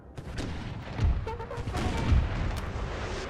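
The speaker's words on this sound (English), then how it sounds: "we lost one guy to cannon fire" Cannon fire on a Napoleonic-era battlefield in the strategy game Napoleon: Total War, a field battle near Barcelona, with two heavy low booms about a second apart over a continuous din of distant musketry and battle noise.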